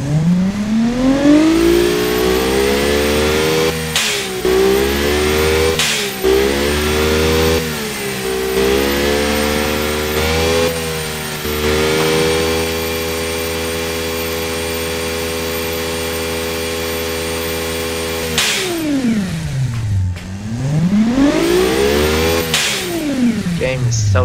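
A 1.7-litre twin-turbo V6 in a video game revs repeatedly, its pitch sweeping up and down, then holds a steady loud drone before dipping and climbing again.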